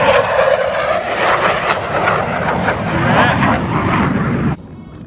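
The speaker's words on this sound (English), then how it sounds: "There's planes all over the place up here." Military airplanes fly overhead near Area 51 on a Nevada desert highway. A loud, broad jet roar sweeps past, cutting off abruptly near the end, with a voice heard at times.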